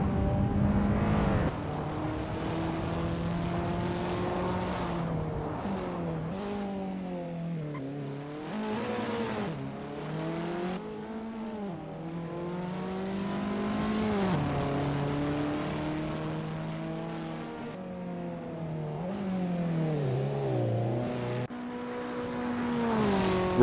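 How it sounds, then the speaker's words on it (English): Racing engines of Abarth 500 cars in the Assetto Corsa racing game at the Macau Grand Prix circuit, a steady loud buzzing drone that rises and falls in pitch through repeated gear changes and revving, continuous and alone. "It's a lovely day for racing here at Macau Grand Prix as we watch these drivers warm up and get ready for the race."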